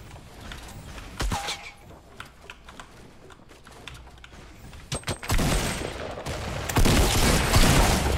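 Sniper rifle fire in Fortnite Battle Royale, sharp single cracks standing out over game noise, with a louder burst of shots and action near the end.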